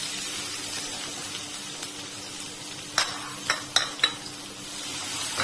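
Onion and asafoetida frying in a pan for dal khichdi, a low steady sizzle with a few sharp utensil taps on the pan in the second half.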